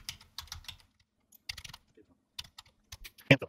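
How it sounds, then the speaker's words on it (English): Someone types on a computer keyboard, tapping keys in short bursts separated by pauses, close and crisp. A louder clack sounds near the end. "So type in the following information"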